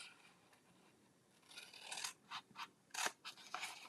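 Scissors make several quick, crisp snips through paper while box pieces are cut out for a Halloween craft, the short bursts close and fairly quiet, growing more frequent toward the end.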